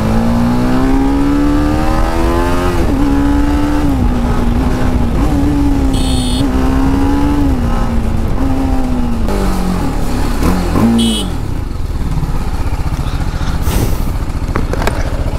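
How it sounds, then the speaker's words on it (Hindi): Loud, sustained revving from a BMW fitted with a titanium exhaust, its pitch rising and dipping over about fifteen seconds, with brief sharp crackles partway through and near the end. "इस एग्जॉस्ट के टाइटेनियम लगा हुआ भाई, रिएक्शन तो मिलेंगे, लाउड तो होगी साउंड इसकी"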